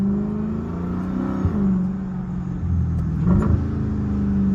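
A Dodge Hellcat engine with an aftermarket intake hums and rumbles steadily with a loud intake whoosh, revving briefly a couple of times at close range.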